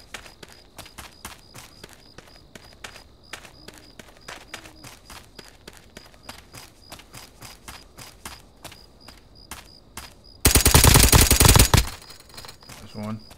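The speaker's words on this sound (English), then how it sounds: "Bro, I'm just hearing shots everywhere, bro. It's like confusing me right now. Sounded like an MK, kinda." Rapid MK rifle fire in the Roblox game Aftermath, a long run of evenly spaced sharp gunshots followed by a loud, dense burst near the end.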